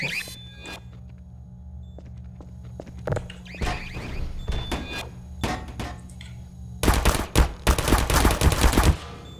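Enemy gunfire in the video game Half-Life 2 crackles in scattered single shots, then a dense burst of rapid fire near the end, with sharp impacts between.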